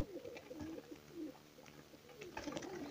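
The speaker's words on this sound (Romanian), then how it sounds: "Aceasta este o porumbiță ă, pestriță, pe închis." Dark speckled female domestic pigeon cooing, soft rolling coos repeated several times, faint and close in a quiet space, with no talking.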